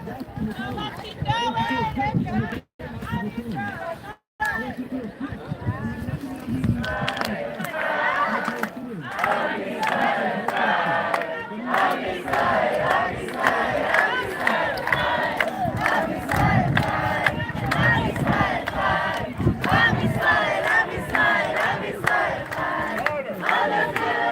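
A large crowd at the March of the Living fills the air with a dense, continuous murmur of many voices, some shouting or chanting, heard close and loud throughout with brief dropouts early on.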